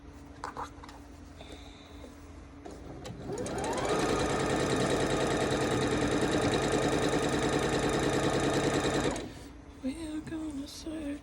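A sewing machine stitches quilt pieces for a red quilt, running in one steady, loud burst of several seconds after some quiet handling noises. It stops abruptly near the end.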